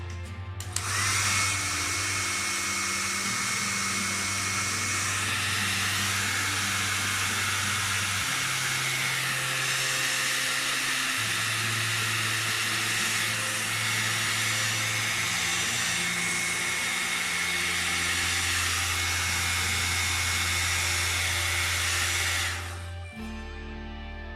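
A hair dryer blows continuously on a paint base of burnt sienna and Prussian blue, a loud steady roaring whoosh with a low hum that shifts slightly in pitch, running close for over twenty seconds before cutting off.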